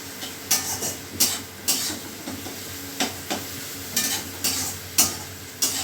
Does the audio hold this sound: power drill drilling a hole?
no